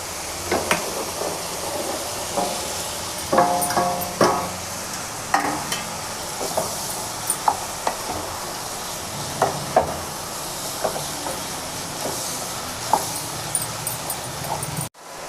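Drumstick pieces frying and stirring in a pan for a tomato drumstick curry, with a steady low sizzle and scattered clinks and scrapes of a spoon throughout, no talk.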